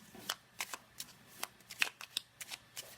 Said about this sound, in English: I'm just going to give this a good old shuffle.